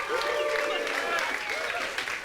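Studio audience applause in a Doctor Who audio drama, dense and sustained for a couple of seconds, with tonal voices or effects threading through it.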